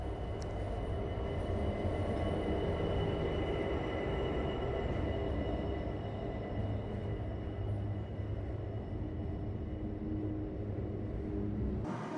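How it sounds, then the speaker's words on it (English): A long Pacific National freight train rumbles steadily through a Queensland station, a continuous low roar with rattling wagons and faint squeals, loud and close throughout. "Pacific National Freight train."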